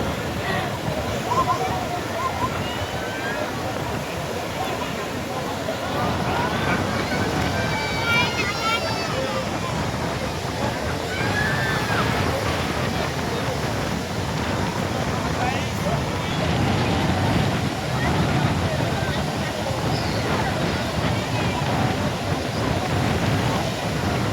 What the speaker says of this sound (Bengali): এখানে কিন্তু প্রচণ্ড এখন ঢেউ আসছে, প্রচণ্ড ঢেউ